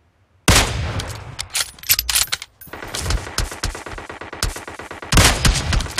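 Rapid bursts of automatic gunfire in the PUBG video game, loud and dense and running almost continuously after a brief silence, with short gaps between volleys.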